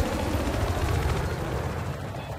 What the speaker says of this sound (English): I think that chopper's about to crash.